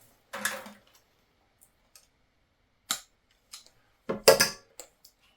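Pruning scissors snip through small branches of a bonsai persimmon (Diospyros rhombifolia), giving a few sharp, close clicks and cuts, including one at the start and a louder cluster near the end, with soft ticks in the quiet between.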